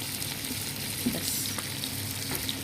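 Meat and spices frying in a pot while being stirred, a close, steady sizzle with faint scraping and light knocks of the utensil, no voices.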